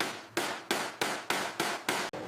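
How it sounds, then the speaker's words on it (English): Planishing hammer smoothing the aluminium nose skin of a 1945 P-61 Black Widow aircraft, a rapid, even series of sharp metallic hits, about seven close, loud strikes alone. "The planishing hammer hits thousands of times per minute."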